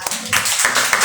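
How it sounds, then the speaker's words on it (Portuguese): A church congregation applauding, a brief dense wash of clapping hands filling the room, loud and close. "Aplauda o Senhor."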